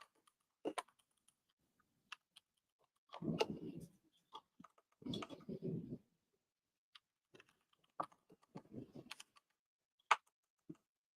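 Someone types a comment on a computer keyboard, with scattered single clicks and a few short, dense runs of keystrokes separated by quiet pauses, close and fairly faint, with no talking.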